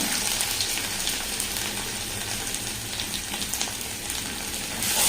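Ginger garlic paste frying in a pan after the onions have softened, a steady broadband sizzle with a faint watery hiss running throughout, close and continuous with no talking.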